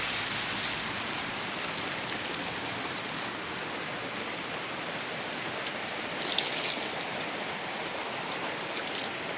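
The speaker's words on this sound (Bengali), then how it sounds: "পুরো একদম মুষলধারে ঝমঝম করে একদম বৃষ্টি নেমেছে" Heavy monsoon rain pours down steadily over a pond in a dense, hissing roar, with scattered louder drops hitting a surface throughout.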